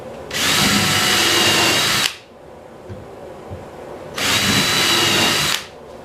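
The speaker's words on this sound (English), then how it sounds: "I'm going to use a countersink bit. Alright, and I'm just going to pre-drill all those." Power drill with a countersink bit pre-drilling screw holes in wood for a workshop storage cabinet, two sustained high whirring bursts of about two seconds each, separated by a quiet pause, close and loud.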